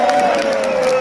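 A crowd at a kushti wrestling match cheers, with a dense, loud roar of voices and a high sustained tone or whistle running through it.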